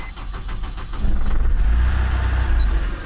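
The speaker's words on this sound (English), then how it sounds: "The engine makes a little bit of noise from the valve train." A 2002 Honda S2000 engine with valve train noise catches and settles into a steady, close idle, a low rumbling hum that holds level after a brief lighter start.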